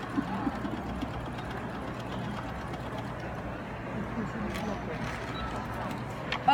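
A sewing machine fitted with a quarter-inch foot stitches quilt pieces together, a steady close mechanical whir that runs the whole time with faint background noise.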